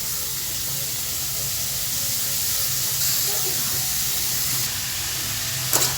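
Shredded cabbage hits a hot pan for Kerala thoran, giving a steady close sizzle and hiss that holds for several seconds, with a brief clatter of a utensil near the end.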